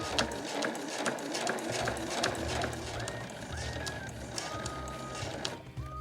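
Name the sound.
sewing machine stitching a fabric pouch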